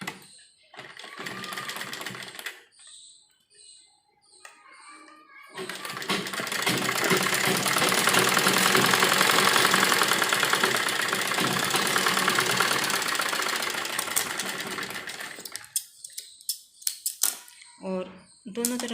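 A sewing machine stitches a fabric strip for a frock's side tie, a sustained rapid mechanical whirr running for about ten seconds, framed by brief stop-start bursts and quieter handling before and after.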